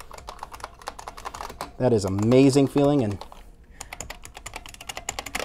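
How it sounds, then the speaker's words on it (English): Keys of an IBM PS/2 Model 30 keyboard being typed on, a close, rapid clatter of crisp clicks that pauses briefly while someone speaks, then resumes. "the sound of those keys is great"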